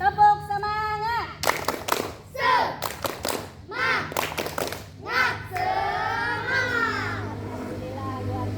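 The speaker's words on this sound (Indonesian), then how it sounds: "kita tepuk semangat dulu ya. Siap, tepuk semangat." Children in a classroom do a rhythmic spirit clap chant, with bursts of sharp, close claps in quick patterns between shouted group voices.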